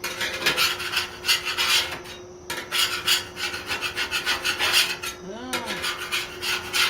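A metal scraper pushed back and forth across a seasoned griddle, loosening cooked-on cheese and bacon, making close, rhythmic rasping strokes with brief pauses and a faint clink.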